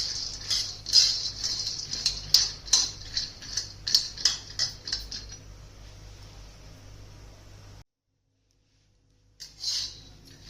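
Peanuts are roasted on an iron tava over gas, with a rhythmic run of clicking, rattling taps over a steady hiss that fades into quieter hiss, then a brief silence and a final short rattle.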